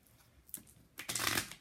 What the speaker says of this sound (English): Shuffle one more time here.